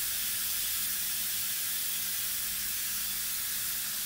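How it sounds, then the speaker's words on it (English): An Instant Pot vents steam and pressure in a loud, steady hiss that runs without a break, close by and with no voices over it. "all your steam and there's all your pressure coming up out of there"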